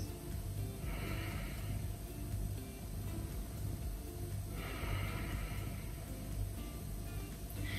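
Ujjayi yoga breathing done with the mouth closed, a steady throaty hiss that rises and fades in slow, long inhale and exhale cycles, heard close up over a low background hum.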